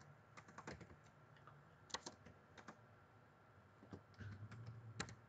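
Faint typing on a computer keyboard in a design program, short bursts of crisp keystroke clicks separated by pauses, close but quiet, with no talk.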